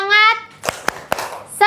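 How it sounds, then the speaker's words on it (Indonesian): A group of children claps in a quick rhythmic pattern of a few sharp claps during an ice-breaking cheer at an event, framed by chanted group voices. "Tepuk semangat."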